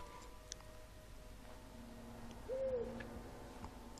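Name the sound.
owls hooting in a Harry Potter video game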